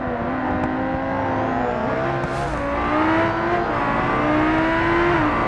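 Race car engines in BeamNG, the bolide class, drone loudly in a steady high-revving whine, the pitch wavering and climbing slightly as the cars accelerate, with no talking.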